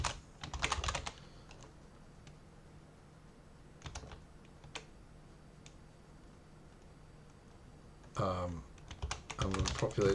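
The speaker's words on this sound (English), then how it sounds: "I know I just typed new." Short bursts of computer keyboard typing while writing code, quick clusters of key clicks separated by quiet pauses, close and fairly soft.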